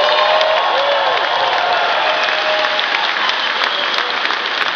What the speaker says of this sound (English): maybe a round of applause for our first profitable quarter as a company.